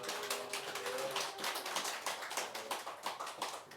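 A church congregation claps for a child during a Children's Day service, a steady patter of many hands that carries on without a break.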